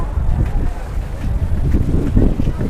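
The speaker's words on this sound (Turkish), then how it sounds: "Hava esiyor ama sıcak esiyor ya." Loud, steady gusts of warm wind buffet the microphone outdoors at a flea market in Kadıköy, Istanbul, producing a continuous low rumble.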